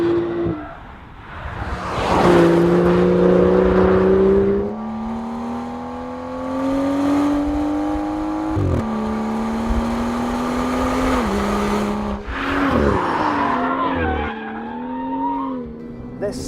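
A BMW M car, one of the M2, M4 or M4 GTS with four exhausts, revving hard with its engine pitch climbing and dropping through shifts, loud and close alongside bursts of tire squeal.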